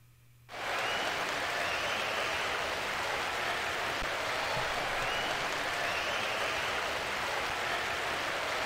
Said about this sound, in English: Turning down the applause